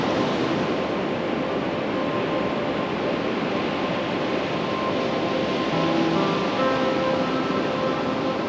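Surf rolls in on an Oregon coast beach, a broad continuous wash of wave noise with no breaks, steady and fairly loud, heard alone without talking.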